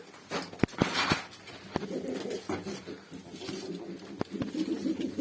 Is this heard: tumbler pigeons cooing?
yes